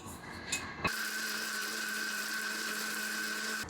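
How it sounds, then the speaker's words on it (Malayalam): An electric kitchen mixer grinds roasted masala, starting after a few faint handling clicks and then running in a steady, high-pitched whine until the end. "ഇനി ഇത് അരച്ചെടുക്കാം."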